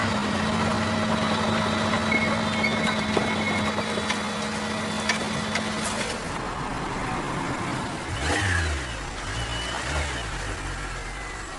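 A car engine idles and then pulls away in a quiet rural village setting, a steady low hum rising briefly as it moves off, fairly faint and with no talk.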